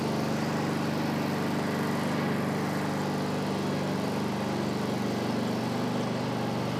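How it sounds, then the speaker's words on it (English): A steady, loud engine drone runs without a break, close by and constant throughout, with a low rumbling hum and no voices over it. "Let's wait and see what the reaction there is when the engine starts."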